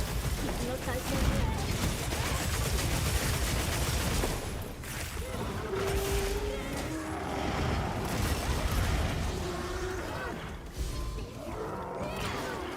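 Explosions and rapid gunfire roar during a monster hunt in the video game Monster Hunter Wilds, a loud, continuous barrage of crashes and mechanical clatter, with voices talking underneath.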